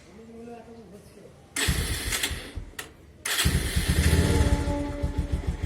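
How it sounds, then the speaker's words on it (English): A motorbike's electric self-starter cranks and the engine catches, fresh from a new battery install, then settles into a loud, steady idle with a brief pause in between; someone talks over the first part. "So now I am going to start my bike with the self start."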